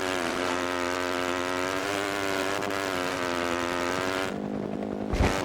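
A helicopter drones steadily in the ATV Offroad Fury: Blazin' Trails game on PSP, its loud, continuous rotor and engine buzz filling the scene before cutting off near the end.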